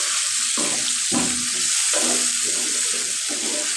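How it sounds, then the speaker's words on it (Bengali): Chopped tomato frying in a hot pan, a continuous loud sizzle with rhythmic bursts of stirring roughly every second, no one talking. "এটা ভালো করে ভাজে দিই।"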